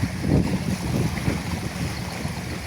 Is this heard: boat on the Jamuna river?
yes